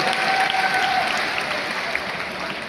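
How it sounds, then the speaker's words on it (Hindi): Crowd applause rings through an indoor stadium at a celebration event, steady and fairly loud, with a dense wash of many hands that eases slightly over a few seconds. "एक बार उनके लिए हाथ उठ करके जबरदस्त ताली सभी लोग बजा दें।"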